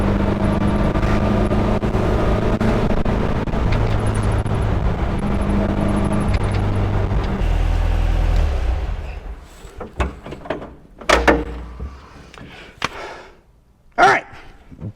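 A 1973 VW Thing on a test drive after front end repairs, its engine and road rumble running steady and loud before easing off, followed by several sharp clunks like a door shutting, with brief talk nearby.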